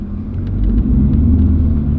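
A heavily modified LS-swapped car's engine rumbles steadily up close, loud and continuous with deep low-end throb while idling and being put into reverse.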